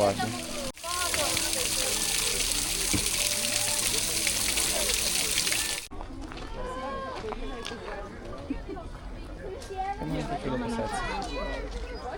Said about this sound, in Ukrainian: Ага, це водоспад, так?